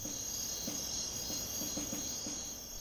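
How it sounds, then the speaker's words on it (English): Cicadas in a Chinese forest give a steady, high, sustained buzz throughout, with faint rhythmic lower chirps pulsing underneath and no voices. "But the hypnotic buzz of the cicadas is too much for some"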